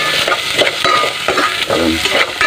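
Garlic frying in a pan for a Filipino milkfish dish, with steady sizzle and repeated scraping strokes of a utensil stirring it, close up and with no talk.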